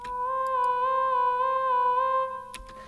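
A synth patch in FL Studio holds a steady, bright electronic tone with a slight wobble, like a police car siren. It sounds alone at a moderate level for over two seconds, then stops with a click.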